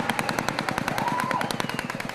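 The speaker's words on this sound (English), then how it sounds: "you can hear gunshots being fired." Rapid bursts of gunfire crack in a fast, steady rhythm, like an automatic weapon firing continuously at some distance, during a protest in Kashmir.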